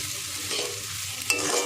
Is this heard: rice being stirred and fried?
yes